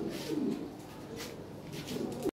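Soft, rolling coos from a Lahori Sirazi pigeon repeat throughout a short stretch, near and steady against low background noise, with no talking.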